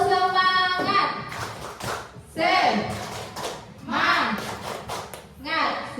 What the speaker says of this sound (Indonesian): Kita akan pertama tepuk semangat, boleh Bapak Ibu berdiri terlebih dahulu